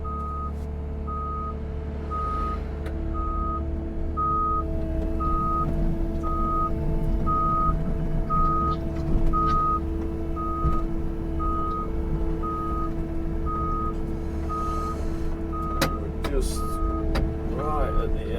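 Regular reversing beeps from a backhoe repeat at a steady pace over the rumble of its nearby engine during pothole road repairs, with some faint background noise.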